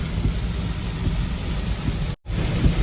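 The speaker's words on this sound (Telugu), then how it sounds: "ఫుల్ వర్షం పడుతుంది" Steady, dense rush of heavy rain fills the whole clip, with a brief dropout near the end before the downpour resumes.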